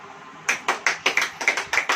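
About a dozen sharp hand claps, evenly spaced and close, after a brief quiet start, at a church sermon.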